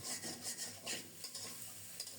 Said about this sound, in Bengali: চুলার তাপটা বাড়িয়ে দিয়ে খুব সুন্দর মতো ভেজে নিচ্ছি